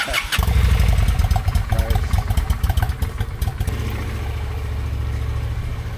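A Harley-Davidson motorcycle engine starts with a burst and settles into a loud, rumbling warm-up idle, steady and close by.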